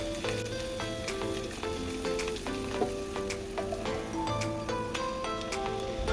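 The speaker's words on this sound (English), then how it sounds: "Please stir and fry the garlic and ginger paste." Garlic and ginger paste fries and sizzles steadily in a pan for a lasagna meat sauce, a dense, continuous crackle with occasional stirring scrapes, fairly close and alone.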